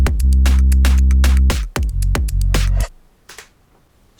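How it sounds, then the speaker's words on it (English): Drums and bass of an edgy pop song playing together, a deep sustained synth bass under sharp rhythmic drum hits for almost three seconds, then the sound drops to near silence with a couple of faint hits. "And together the drums and the bass sound like this."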